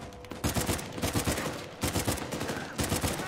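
Rapid automatic gunfire in Uncharted 4: A Thief's End, dense bursts of close, loud shots in quick succession with brief gaps between volleys.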